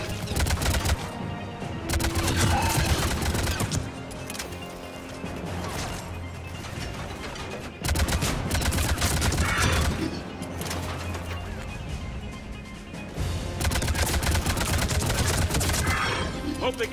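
Gunfire in the shooter game Mass Effect 3 comes in loud, dense bursts of shots with short quieter gaps between them, set against busy game noise, with a voice heard now and then.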